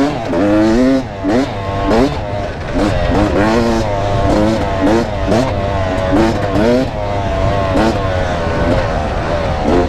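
A 2017 Beta Enduro RR 300 two-stroke motorcycle engine revs and pulls loudly and close, climbing and dropping in repeated bursts as the bike is ridden hard.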